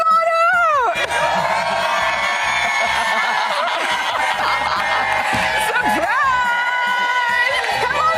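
A large live crowd at a surprise television appearance cheers and whoops loudly and continuously, with laughter and chatter mixed in and a few sharp shouts rising above the roar.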